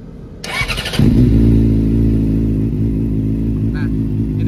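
A Yamaha R6 fitted with a quickshifter sensor cranks with a brief starter whir, then fires and settles into a loud, close, steady idle; a voice is faintly present over the engine.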